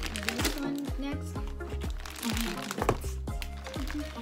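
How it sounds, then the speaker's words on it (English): Scissors snip and crinkle through a Japanese candy wrapper, with sharp cuts and rustling plastic crackles spread across a few seconds, heard fairly close while the crinkling dominates. "Can you hear the scissors?"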